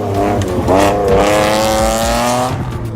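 A car driven on the road, its engine droning and rising in pitch as it accelerates and shifts, close and steady for a few seconds.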